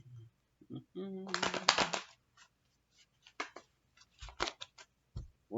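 Tarot cards are shuffled by hand in quick riffling, papery bursts, close and fairly soft, broken up by someone talking and humming between shuffles.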